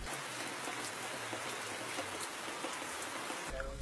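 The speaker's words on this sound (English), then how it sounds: "the thatch roof only strains the heavy downpour that confines the pupils" A heavy rain downpour pounds a thatch roof over a primary school classroom in Ghana's Volta Region, a dense, loud, continuous hiss of falling water with no voices.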